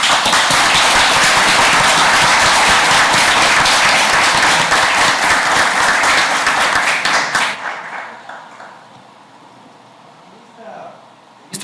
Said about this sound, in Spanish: Un aplauso para la familia.